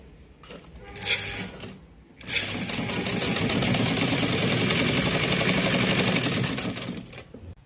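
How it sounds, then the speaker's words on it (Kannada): Sewing machine stitching a bag made from a saree: a short burst of whirring, then a pause, then several seconds of steady, fast, close mechanical stitching that slows and stops. "ಇಲ್ಲಿ ಒಂದು ಹೊಲಿಗೆನ ನೀಟಾಗಿ ಇದ್ರ ಮ್ಯಾಗಡೆ ಬರೋ ಹಾಗೆ ನಾವು ಹಾಕ್ಕೋಬೇಕು"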